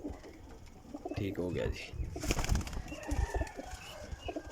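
High-quality flying pigeons cooing in a few soft, rounded calls, heard among rustling background noise and someone talking.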